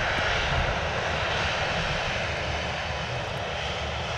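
A Jet2 Boeing 737 arriving at Manchester Airport produces a continuous, loud, broadband engine roar that holds steady throughout with no talking.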